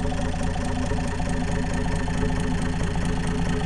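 An undertiller engine with unadjusted lifters idles steadily and close by, a continuous, even mechanical drone with a faint rapid ticking running through it and no talk.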